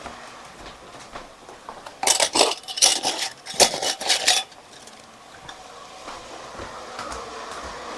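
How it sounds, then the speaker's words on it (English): Metal canning lids for pressure canning are picked up and handled, giving a close burst of bright clinks and rattles for about two seconds before settling back to quiet handling noise. "let me grab my lids"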